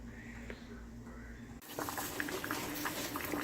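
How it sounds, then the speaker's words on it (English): Canning lids simmer in a pot of boiling water, a steady bubbling patter that grows busier and louder partway through, with no one speaking. "my lids have been boiling for 5 minutes"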